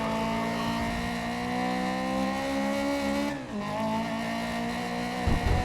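Racing car engines drone and whine steadily throughout, with a brief dip in pitch midway and a short rough burst near the end, from the video game GRID (2019).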